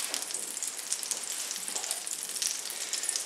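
Pierogi frying in foaming butter in a pan, a steady close crackling sizzle with fine popping, continuous and fairly loud with no talk.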